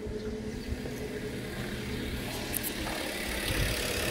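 A Mazda 3 engine idling steadily after starting, a continuous mid-low hum with faint mechanical ticking, close and even in level, no voices.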